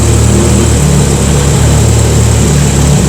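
A Porsche 944 fitted with a big turbo runs steadily at close range, its loud, raspy exhaust droning evenly with no voices over it.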